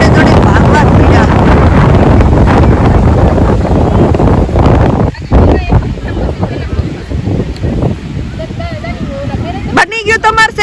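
Strong wind blows outdoors in a park, roaring and buffeting loudly against the microphone, easing a little toward the end. Voices and shouting are heard underneath.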